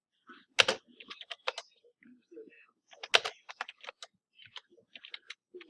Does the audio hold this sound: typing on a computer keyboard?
yes